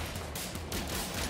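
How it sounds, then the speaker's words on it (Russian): Gunfire in the co-op sci-fi video game No Man's Sky: a dense, continuous barrage of loud blasts filling the whole moment, sustained without a break. "такие мощные выстрелы"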